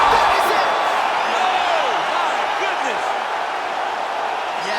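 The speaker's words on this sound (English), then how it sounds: "crowd loving it" A steady roar of an arena crowd cheering fills a UFC 5 fight, loud and continuous, with scattered whoops and whistles rising above the wash of noise.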